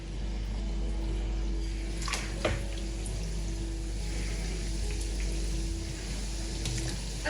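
Nigerian chin-chin dough frying in hot oil, a loud steady wash of bubbling sizzle that holds evenly throughout, close up, with a few brief clinks near the middle and no talking.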